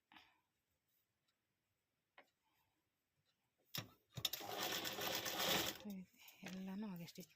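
A tailoring sewing machine stitches a dori design in one loud, fast whirring run of about two seconds, close by, after near silence and a few faint taps; a voice speaks briefly afterward.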